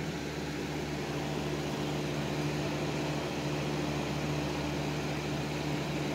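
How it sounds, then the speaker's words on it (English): An electric fan runs indoors with a constant whooshing roar and a low steady hum, unchanged throughout and without any speech. "Sorry about the fan."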